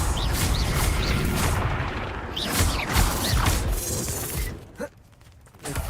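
The Confringo fire spell in Hogwarts Legacy explodes in a series of loud, crashing blasts with heavy booms and rumbling debris during a chaotic fight, then drops off near the end.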